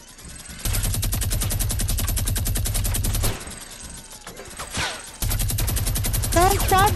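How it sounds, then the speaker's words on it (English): Sustained automatic gunfire from Fortnite gameplay, with long rapid bursts of shots, a brief lull with scattered sounds in the middle, then another loud barrage; a voice is also heard. "Don't stop shooting, whatever you do."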